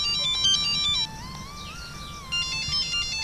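An electronic phone ringtone plays a bright, looping tune that stays clear and steady for a few seconds, dips briefly, then carries on, with no voices.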